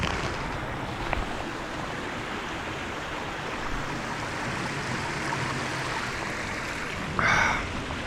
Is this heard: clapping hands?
no